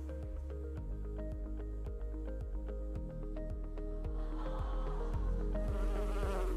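Honeybees buzz steadily and closely, playing back from a video during a sermon, with a droning hum and a regular ticking pulse underneath that swells near the end.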